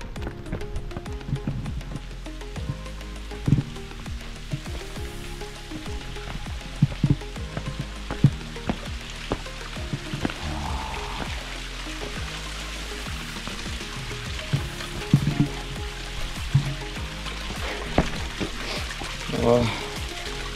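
Water flows steadily into a deep rock pool in the Kundalika valley of the Sahyadri hills, a constant splashing wash under a person speaking nearby.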